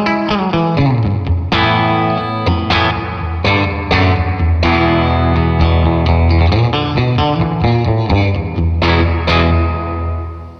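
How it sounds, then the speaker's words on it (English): Electric guitar played through a spring reverb voiced like a '65 Twin Reverb or Deluxe Reverb amp, loud and continuous with sustained chords and picked notes carrying a moderate, less washy tail, no voices. "now this is a reverb you might find in a deluxe reverb or a 65 twin reverb"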